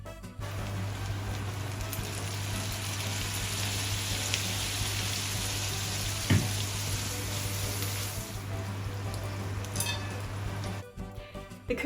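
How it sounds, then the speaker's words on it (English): Konjac steak sizzles and crackles steadily in hot butter in a pan, a dense, even frying hiss that runs almost unbroken, with a brief sharper splash as soy sauce is poured in. "When the edge of the konjac started getting a bit browned and also crispy, it's time to pour some soy sauce."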